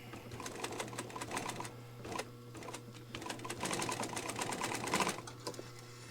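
A Juki sewing machine runs in quick stitching bursts with a rapid mechanical clatter and a steady underlying hum, pausing briefly between runs; no one talks.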